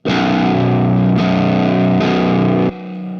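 Distorted electric guitar plays through an Orange Micro Dark amp and a modded BOSS SD-1 overdrive. Three loud sustained chords are struck in turn, the last cut short to a lower ringing tail, with no talk.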